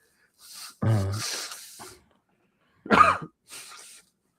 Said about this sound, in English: Apologize, I have to blow my nose.